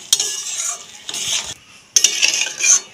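Dal boiled with spices is poured into a spice mixture in a pot and stirred, giving a few bursts of close scraping and clinking against the metal, with short quiet gaps between them.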